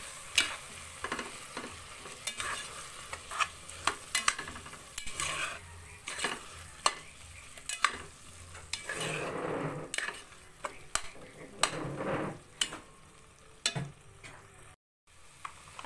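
Hot dogs and corned beef frying in a pan for Filipino-style spaghetti, with a steady sizzle and frequent close scraping and clinking of a utensil stirring against the pan throughout.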